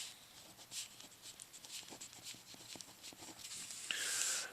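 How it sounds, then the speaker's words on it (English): A pen scratches out an equation in a quick series of short, faint strokes, close up and quiet, with a slightly louder scribble at the end. "So I'm just going to write that down twice."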